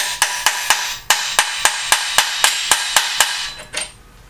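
A hammer drives a metal angle piece into place on a crane, striking about a dozen sharp, ringing blows at a steady pace, close and loud, followed by a clattering knock at the end, with no talking.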